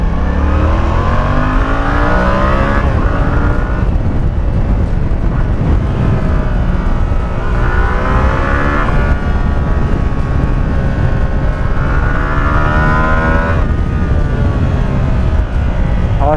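A Yamaha MT-07 Tracer motorcycle engine runs continuously and loudly while riding, its revs rising and falling in several sweeping surges under steady wind noise.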